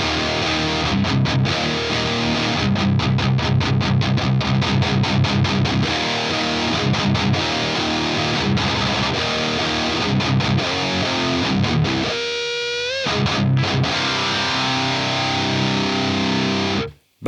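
An electric guitar plays through a Tube Screamer pedal on a Fractal AX8 Rectifier amp model, giving loud, heavily distorted riffs with tight palm-muted chugs and a brief pick scrape before stopping abruptly.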